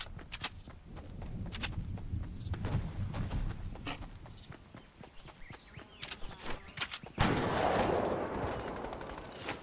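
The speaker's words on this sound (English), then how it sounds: "Oh, they're shooting." Gunfire during a Fortnite solo-versus-squads match, with scattered sharp shots cracking over a busy bed of footsteps and game noise, then a louder, denser burst of action near the end.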